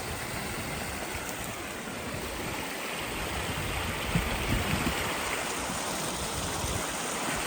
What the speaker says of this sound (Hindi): एक छोटा सा पानी का बहाव नीचे की तरफ जा रहा था।